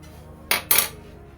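A spoon clinks twice against a pressure cooker pot while beef curry with black pepper powder is stirred; the two bright metallic taps come in quick succession, close and clear, against quiet background.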